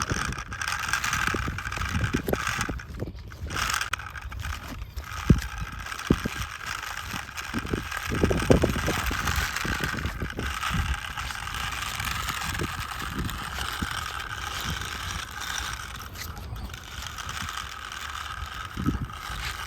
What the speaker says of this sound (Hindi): ये देखो भाई देव उसके ट्रैक्टर को चला रहा है।